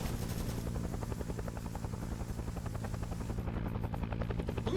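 Helicopter rotor thumping steadily in a Vietnam War video game, a low rhythmic chop with engine drone, moderately loud and continuous as the chopper comes back in.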